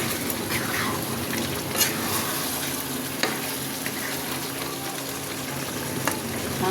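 Boiled potatoes sizzle steadily in hot oil in a wok, with a loud, continuous frying hiss up close. A few sharp clicks of a stirring utensil sound against the pan.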